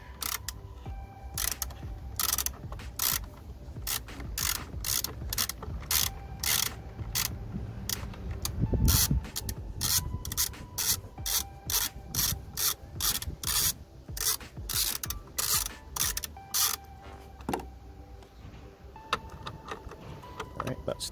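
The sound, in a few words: ratchet wrench undoing VW Polo battery clamp bolt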